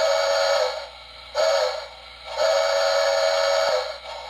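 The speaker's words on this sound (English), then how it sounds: "Whistle on demand. The longer you hold it, the longer it plays." A Lionel HO Polar Express model locomotive sounds its whistle on demand, three bright, shrill whistle blasts of varying length with short gaps between, loud and close with a faint background hum.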